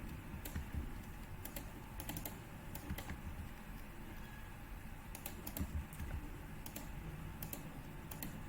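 Typing on a computer keyboard during a Lua programming lesson, soft irregular clicks spread through the clip over a steady low background hum.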